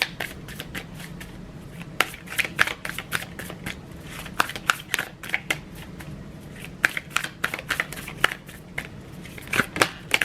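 A deck of tarot cards is shuffled by hand, giving a steady run of crisp riffling flicks and soft slaps, close and fairly quiet, with no talking.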